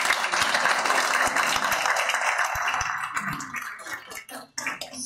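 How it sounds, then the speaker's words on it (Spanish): Audience applause at a university law conference, a dense continuous patter of many hands filling the room, steady at first and then thinning and fading toward the end. "quiero empezar esto con un fuerte aplauso a mis colegas que están presentes"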